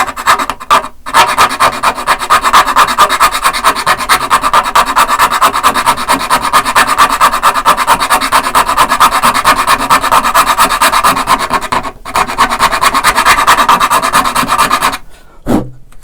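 A hand file rasps steadily on a part of a Seagull Entourage guitar during a pickup and setup job, making loud, close, rhythmic scraping strokes that continue for several seconds with a few short pauses.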